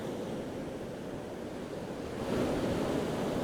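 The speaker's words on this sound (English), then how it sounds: "There's quite a steep ledge, so the sea's having to work hard to get up and over" Sea waves, pushed by onshore wind, labour up and over a steep coastal ledge as the tide rises, a steady low rushing roar that grows slightly louder partway through, with no voices.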